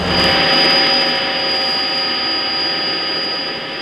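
Helicopter filming a bike race over a barren landscape, its engine and rotor roar loud and steady throughout, droning without pause.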